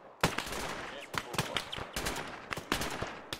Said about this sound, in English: There is a technical firing at us from 40.